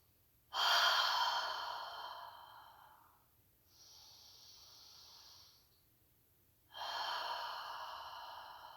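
Slow, deep human breathing: a long loud inhale, a softer extended exhale, then another strong inhale, close and alone in a quiet room.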